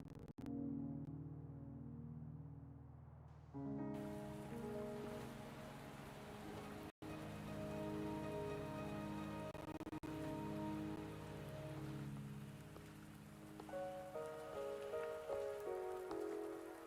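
Rain pours steadily in a video game scene, its dense wash running beneath a loud sustained melodic music score for the full stretch, with one abrupt brief cut partway through.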